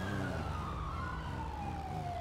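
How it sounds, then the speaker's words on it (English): Police car sirens in the video game GTA wail nearby, a sliding electronic tone sweeping downward over a loud, constant rumble of engine and background game noise. "And if they're not, they're just super close with their sirens on."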